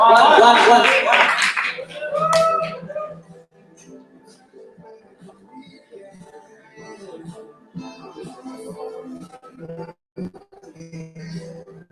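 An assembly audience at the IAAS World Congress bursts into loud clapping for the next speaker, a short burst that fades within about three seconds, followed by quieter talk and scattered laughter.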